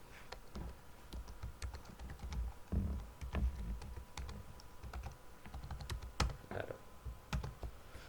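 Close computer keyboard typing comes as a steady run of crisp key clicks in irregular bursts, including a quick Ctrl+V shortcut press, with no talking over it.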